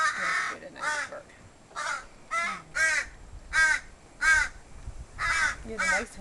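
Baby crows caw loudly and close by in a series of about ten harsh, rasping calls with short pauses between them.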